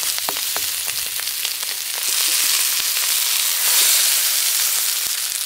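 Zucchini sizzle in a frying pan with a dense, steady hiss that swells a little partway through, dotted with small crackles and pops, close and unaccompanied by speech.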